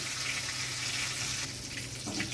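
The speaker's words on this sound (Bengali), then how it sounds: "পাঁচফোড়নটা একটু ভাজা ভাজা হয়ে গেছে" Panch phoron spices crackling in a little hot oil, a brief, even hiss of frying heard close up with no voices.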